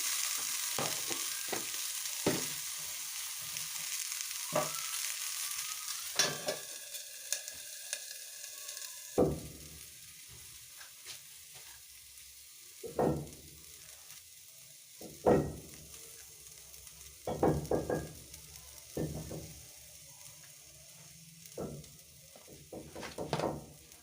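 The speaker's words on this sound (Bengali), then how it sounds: "দেখো ফুলকপিটাকে কমিয়ে কমিয়ে আমি এই তেলেই একটু জাস্ট কষিয়ে নেব চাপা দিয়ে দিয়ে" Cauliflower sautéing in a little oil, pressed down while being stirred: a bright sizzle at first that settles lower, broken by repeated sharp scrapes and knocks of the spatula against the pan at irregular intervals.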